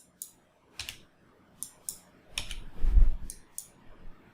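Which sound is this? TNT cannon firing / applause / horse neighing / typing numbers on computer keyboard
typing numbers on computer keyboard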